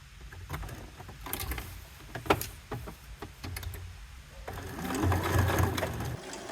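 A sewing machine stitches a pocket onto a T-shirt in short stop-start bursts, then runs in a longer, louder steady stretch near the end, close by with no talk.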